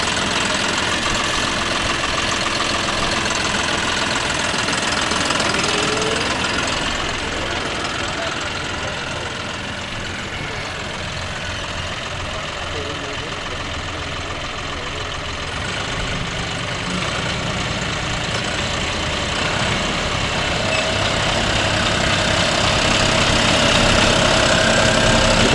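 A John Deere 5405 4WD tractor idles with a steady, low, rumbling drone throughout, a faint knocking texture running through it.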